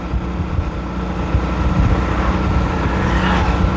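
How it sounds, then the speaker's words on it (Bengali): A 2024 Yamaha FZX motorcycle is ridden at steady speed, giving a continuous low engine drone mixed with road and wind rumble that rises slightly toward the end, loud and close. "দেখেন বাইক চালাচ্ছি কত স্টেবল,"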